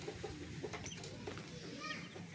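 Hens and chicks cluck and peep softly on a farm, with short scattered calls and faint high chirps at low volume over steady background noise.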